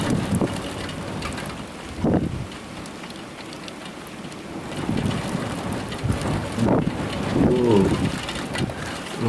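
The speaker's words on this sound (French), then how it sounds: "il y a beaucoup de vent qui s'est levé d'un coup" Strong wind gusts roar in bursts during a moderate storm with snow at Sallanches, buffeting the microphone; a person briefly exclaims once.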